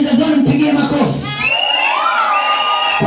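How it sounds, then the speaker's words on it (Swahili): A church congregation roars with loud cheering, shouting and high whoops, a dense continuous crowd din that rises into long shrill cries. "Pigia makofi Jesus Orange, makofi makubwa kama umekubaliana na yeye"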